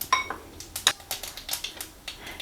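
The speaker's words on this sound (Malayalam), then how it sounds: "കടുക് പൊട്ടിയിട്ടുണ്ട്" Mustard seeds crackling and popping in hot coconut oil, a quiet scatter of small sharp pops and ticks at an uneven pace.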